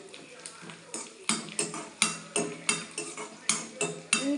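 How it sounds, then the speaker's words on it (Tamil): A spatula scrapes and clanks against a pan in a steady rhythm of about a dozen strokes while poha upma is sautéed; the frying itself stays quiet under the stirring. "நல்லா வதக்கிக்கிடணும்"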